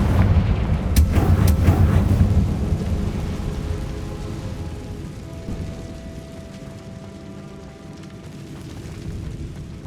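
Confringo blasting spell explosions in the Hogwarts Legacy video game: heavy rumbling booms with crackling bursts early on, settling into a low, lingering roar that slowly fades.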